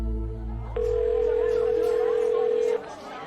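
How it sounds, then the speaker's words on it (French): A telephone sounds with a steady electronic tone held for about two seconds after a short lower hum, close and clear, with no voices over it. "Décroche, Denis, décroche, Denis"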